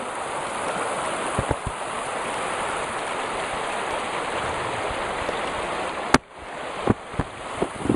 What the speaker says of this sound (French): un petit torrent qui passe.